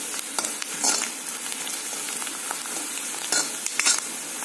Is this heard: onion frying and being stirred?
yes